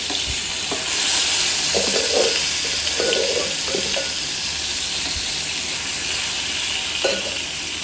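Curry fries in a home kitchen pan with a loud, steady, hissing sizzle that fills the whole stretch, while a few low knocks and scrapes of stirring come and go close by, with no voices.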